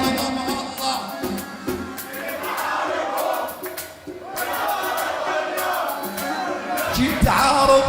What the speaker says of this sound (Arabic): اسمع صوت الجمهور